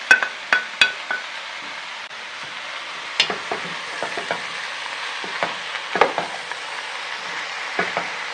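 Vegetables and meat stirred together in a frying pan, with a steady soft sizzle and a series of sharp utensil scrapes and clinks against the pan. The clinks come at irregular intervals throughout.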